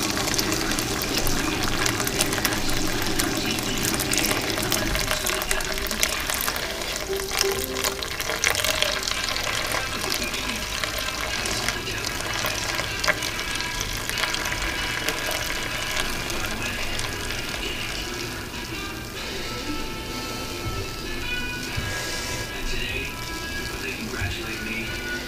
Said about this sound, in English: now we're gonna pour some of this dirty water out